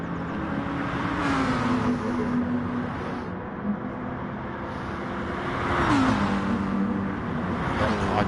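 Racing cars in a video game race, engines droning steadily with pitch shifts as gears change and drivers jostle for the inside line through corners, a loud continuous engine tone throughout.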